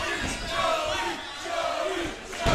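A wrestling crowd at a live event in 2007 cheers and chants for Joey Hayes, a loud, continuous roar that swells and dips, with a commentator's voice faintly underneath.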